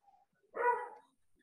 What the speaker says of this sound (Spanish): el perrito de afuera le dio por ladrar